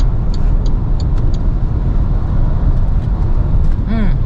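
A Maxus 9 top-trim V van pulls away under acceleration on a test drive, a steady loud road and engine rumble with continuous tyre and wind noise throughout.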